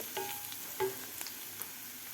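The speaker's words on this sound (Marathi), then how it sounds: "इथं मी अर्धा चमचा जिरे घालणार आहे" Half a spoon of cumin seeds drops into hot oil for a dhaba-style kaju masala. A faint, brief sizzle follows, with a few soft crackles and clicks.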